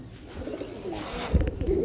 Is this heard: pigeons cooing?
yes